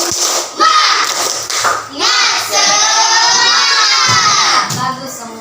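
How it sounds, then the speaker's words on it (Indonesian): A class of schoolchildren performs a rhythmic spirit clap, with bursts of loud shouted chanting from many young voices and scattered hand claps between the cheers. "Tepuk semangat."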